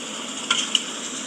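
Thinly sliced, lean steak frying in a pan, a steady soft sizzle running throughout with a couple of brief crackling pops.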